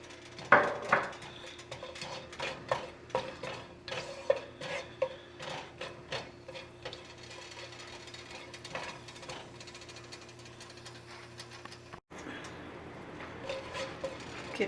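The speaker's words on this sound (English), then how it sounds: "Keep sauteing the cloves until the smell comes out." Cloves sautéing in oil in a pan, with steady clinks and scrapes of a utensil against the pan over a faint sizzle, close and moderately quiet.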